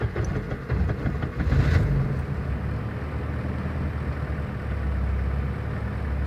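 A turbocharged Volvo car engine cranks over, catches and settles into a steady, fairly loud idle with a low rumble, heard up close with no talking.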